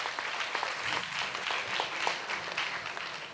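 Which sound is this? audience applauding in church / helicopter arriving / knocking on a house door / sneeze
audience applauding in church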